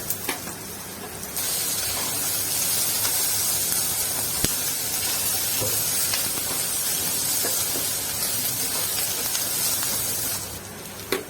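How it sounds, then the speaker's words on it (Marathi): Garlic and ginger frying in a hot pan for matar paneer, a steady loud sizzling hiss that starts suddenly and holds evenly for about ten seconds before fading off, close with no talk. "लसूण अद्रक टाकून घेऊया भाजायला"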